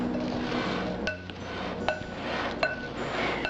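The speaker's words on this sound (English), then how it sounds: "So we'll stir to combine, making sure the garlic is spread throughout" Olive oil, raw garlic and salt stirred together in a bowl for a white bean and pepper salad dressing, with three or four sharp clinks of a utensil against the bowl over soft, steady background noise.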